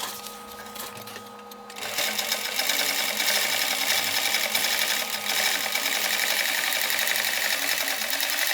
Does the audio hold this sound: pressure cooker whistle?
no